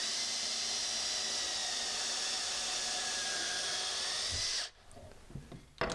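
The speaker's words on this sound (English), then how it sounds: "So I drill a pilot hole first with this slightly smaller bit." A power drill spins steadily at high speed while boring a pilot hole in wood for mounting cabinet doors and drawer fronts, then stops abruptly near the end, followed by faint handling noises.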